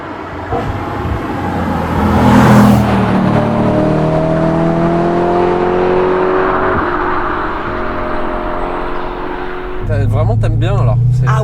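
A BMW M3 GTS Clubsport E92 replica accelerates on track, its engine climbing through revs with rising, shifting tones, heard from inside the car with people talking over it.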